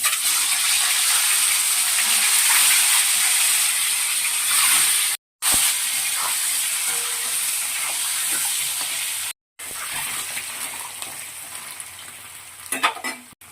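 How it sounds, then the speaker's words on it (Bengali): Duck eggs fry in oil in a kadai with turmeric and salt, giving a loud, continuous close sizzle and hiss with scraping stir sounds, broken by two brief silent gaps. "ডিমটা ভেজে নিচ্ছি"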